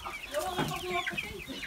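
Chickens cluck repeatedly on a farm, with several short overlapping calls close by and a fairly loud, busy flock sound throughout.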